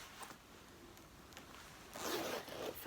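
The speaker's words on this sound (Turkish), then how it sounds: "fermuar böyle bu şekilde yandan" A zipper on the side of a soft leather winter coat is drawn open in a short, quiet, close-up rasp, growing slightly louder toward the end, with no talking.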